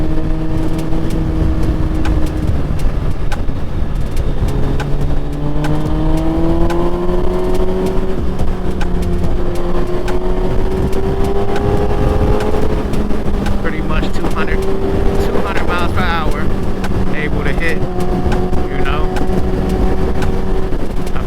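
A Kawasaki ZX12R motorcycle engine runs steadily and close by, its pitch rising and falling with revs under wind noise.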